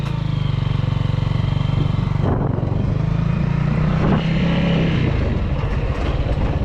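A Lifan SR220 motorcycle engine runs close and loud after being started, a steady low throbbing idle with a few small rev changes and no talking over it.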